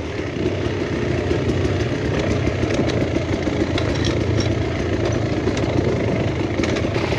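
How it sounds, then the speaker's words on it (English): An old-school Kawasaki KX 250 dirt bike engine on an enduro trail, a steady close engine drone running without a break and with no talk over it. "he is still rocking his old school KX 250"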